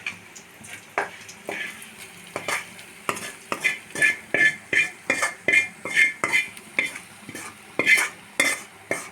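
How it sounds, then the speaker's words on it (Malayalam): A spoon scrapes and stirs a chickpea curry with butter, fried shallots and curry leaves in a pan, in a steady rhythm of about two strokes per second over a soft sizzle, close and fairly loud with no talking. "നന്നായി മിക്സാക്കി കൊടുക്കാം"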